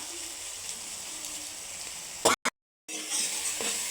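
Vegetable masala with salt and turmeric being stirred in a pan gives a soft steady sizzle with light stirring scrapes, broken by a brief clatter and a short dropout of near silence before the frying resumes.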